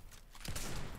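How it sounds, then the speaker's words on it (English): A sniper rifle fires in the video game Fortnite: one short, sharp burst of gunfire lands midway through a moment of low background noise. "Sniper bullets."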